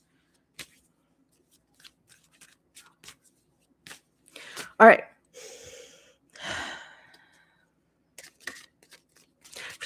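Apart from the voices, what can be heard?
shuffling cards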